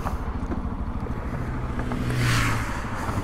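A motorcycle, a Honda NH 190, idles nearby on a mountain road, with a steady low throbbing engine note and a brief swell of wind or passing noise near the end.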